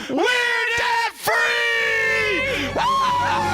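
A crowd of happy people, newlyweds among them, lets out a loud, sustained celebratory scream and whoop that rises, briefly dips, and surges again with overlapping voices.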